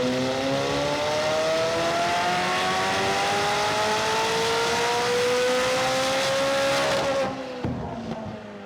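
A stock-turbo McLaren engine on a dyno during tuning, revving steadily and climbing in pitch for about seven seconds before the throttle lifts and it falls away, loud and close with no talk.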